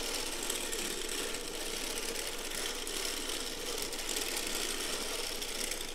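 A circular sock knitting machine being hand-cranked, giving a steady, dense mechanical whirring and clicking of needles and gears that runs continuously and evenly throughout, fairly close and with no voices.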